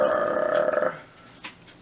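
A voice imitates a puppy's growl: a single low, steady rasp lasting just under a second, followed by faint quiet.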